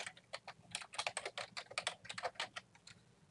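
Quick, uneven keystrokes on a computer keyboard rattle out in short bursts as a sign-up form is filled in, close and fairly soft, with no voices.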